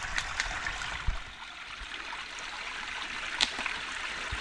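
Clear water runs from a pipe, probably PVC, at a poultry farm: a soft, steady trickling and rushing that stays faint throughout, with a few small splashes.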